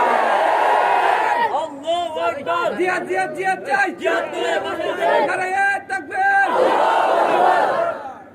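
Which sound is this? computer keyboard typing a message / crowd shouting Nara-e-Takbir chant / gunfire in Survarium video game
crowd shouting Nara-e-Takbir chant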